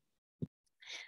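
One sharp, close sneeze bursts out of near silence, followed by a softer breathy rush of air a moment later.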